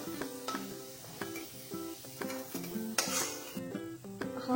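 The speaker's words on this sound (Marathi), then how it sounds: "कांदा आता चांगला ब्राऊन झालाय, आता काढून घेऊया।" Browned fried onions lifted out of a pan for prawn biryani, with a rhythmic series of metal spoon scrapes and knocks against the pan over a faint sizzle, close and steady.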